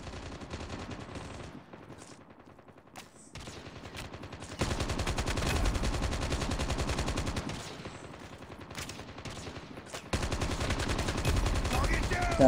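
Rapid automatic gunfire from the mobile shooter Call of Duty Mobile rattles in long sustained bursts with short pauses between them, loud and close throughout.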